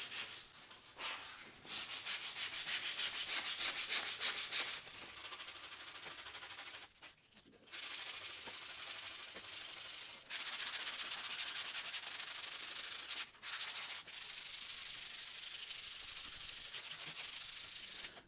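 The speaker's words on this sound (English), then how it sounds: "So now I just sand that lip down." The lip of a wooden replica SVS PB-3000 subwoofer enclosure is sanded by hand in long, steady, close, loud stretches of abrasive rubbing, broken by a few short pauses. No one speaks.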